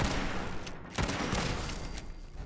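Turret gunfire in Fallout 76, a dense, loud stream of rapid automatic shots with a couple of sharper cracks punching through the continuous rattle.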